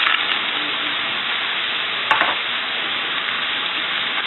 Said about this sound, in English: And just saute those in there with the onions.